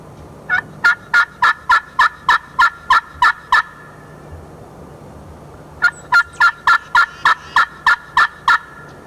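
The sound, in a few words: turkey hunting calls imitating hens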